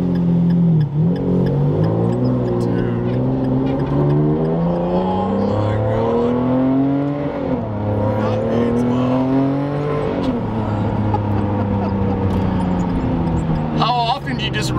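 A straight-piped Ferrari Enzo engine revs and drives, its loud exhaust rising and falling in pitch with acceleration throughout, while people talk over it inside the car.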